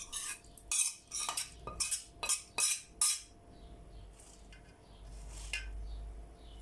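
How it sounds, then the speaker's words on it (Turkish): A utensil scrapes a frying pan to push fried onions onto spinach for a börek filling: about seven sharp, rhythmic metallic strokes close by, then a few softer scrapes and quiet clinks. "Şöyle tavamızı da sıyıralım"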